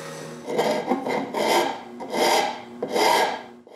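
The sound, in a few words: rasp filing wood to remove glued tabs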